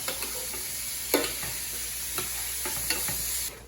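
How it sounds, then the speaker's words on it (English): Chopped onion and green pepper sauté in a pan with a steady close sizzle, broken by a few sharp scrapes and clinks as the vegetables are stirred. "we have sauteed the onion and the green pepper until it's a little translucent"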